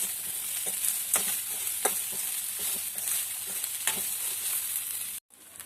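Ingredients for pirandai chutney being stirred in a pan over heat, a steady close sizzle with rhythmic scraping strokes of a spoon, running continuously before cutting off abruptly near the end.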